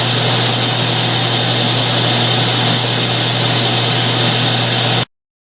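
A metal lathe turns down a pulley shaft to 5/8 inch, taking about an 80-thousandths cut; a loud, steady machine drone with a low hum runs unbroken, then stops abruptly.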